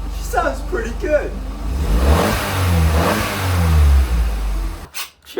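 An Opel Corsa C track car engine revs up and settles back down close by with a rising and falling roar, and there is brief talk at the start.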